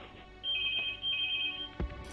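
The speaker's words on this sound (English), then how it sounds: "just wait for that phone to stop" A telephone ringing during a computer strategy game session, two bursts of an electronic trill, moderately loud, followed by a thump and faint background hum.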